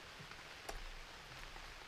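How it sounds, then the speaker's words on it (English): Steady rain falls in the survival game UnReal World, a soft, even hiss with one brief sharper patter partway through, faint and with no voices. "It's raining now."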